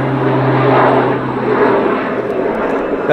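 A propeller airplane passing overhead on a mild, clear day, its engine drone loud and steady throughout, holding an even hum with a faint shift in pitch as it crosses.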